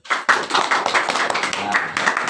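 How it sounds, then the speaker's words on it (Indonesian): Short burst of classroom applause from students during a lesson, sharp uneven claps starting abruptly and continuing at a fairly steady level for a couple of seconds. "Tepuk tangan."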